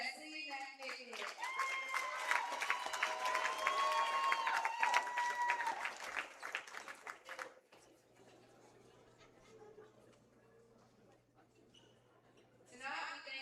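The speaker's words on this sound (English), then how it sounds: "Let's give a big round of applause for Mr. Wesley McNichol." Applause at a high school senior night sports event, clapping and crowd noise in a gym mixed with voices and a tonal squeal, fading after several seconds to quiet room noise before a brief return.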